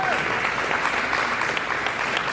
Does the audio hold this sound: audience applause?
yes